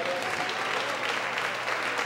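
A church congregation claps for Jesus at a Portuguese-language service, a dense continuous round of applause filling the space with a voice faintly underneath.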